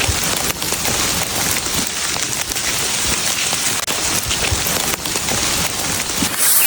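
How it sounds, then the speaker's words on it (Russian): Steady rain falls outdoors on a morning in the Taganay mountain area, a dense, even patter of drops on surfaces with occasional sharper splats, continuous and fairly close. "Утро нас встретило дождем"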